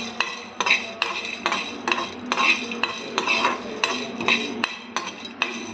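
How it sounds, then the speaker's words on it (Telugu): Black peppercorns and whole spices fry in a pan over low flame while being stirred, with a rhythmic series of close scraping and clinking strokes over a light sizzle. "మిరియాలు ఫ్రై చేసుకోవాలి."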